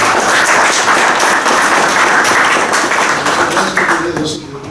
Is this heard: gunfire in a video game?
no